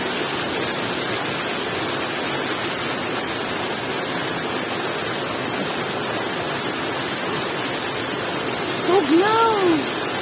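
Waterfall at Marahan pouring steadily as a dense, continuous rush of water, loud and close throughout, with a brief voice-like call rising near the end.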